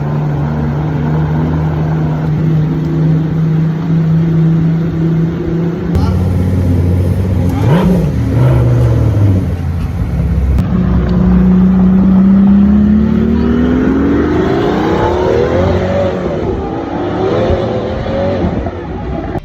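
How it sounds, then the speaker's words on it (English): Pagani Utopia with a 6-liter twin-turbo Mercedes-AMG V12 in Need for Speed No Limits: loud sustained engine drone that dips, then rises in a long rev sweep, continuous and close throughout. "equipped with a 6-liter twin-turbocharged V12 engine from Mercedes-AMG"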